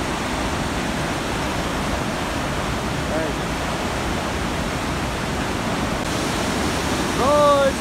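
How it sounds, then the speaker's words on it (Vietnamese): Thác 72 waterfall in Vietnam, set in green forest with a large stream, pours with a dense, steady roar heard from close below the falls, a constant rushing wash with a brief voice near the end. "bây giờ mình đã tới ở dưới chỗ thác rồi các bạn nha"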